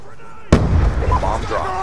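A frag grenade goes off in a Black Ops 2 search and destroy match on Wii U, one sudden loud blast followed by a rumbling roar, with a voice talking over the tail.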